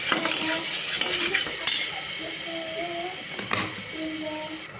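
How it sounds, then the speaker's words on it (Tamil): Potatoes and peas with salt and garam masala stirred in a pan, spoon clinks and scrapes over a light sizzle, with soft tonal squeaks and faint background noise. "இப்போ உப்பை போட்டு நம்ம கிளறி விட்டுக்கலாம்."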